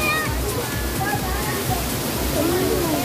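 Tagbibinta Falls pours in a steady, close rush of falling water with sloshing and splashing, and voices are heard faintly under the roar.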